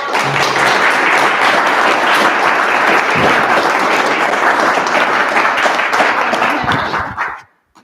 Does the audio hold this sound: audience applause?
yes